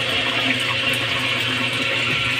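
Water churning steadily from an aquarium filter pump in a turtle tank, a continuous close, loud rushing and splashing with no voices.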